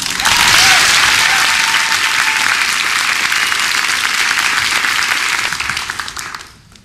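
An audience applauds warmly for Samuel R. Delany at a REDCAT writer-in-residence event, a dense, steady wash of clapping from a full room that holds for several seconds and then fades out.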